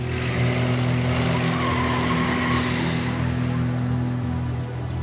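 A car pulls away with a loud, sustained engine roar and a tire squeal, holding steady for several seconds before easing slightly at the end.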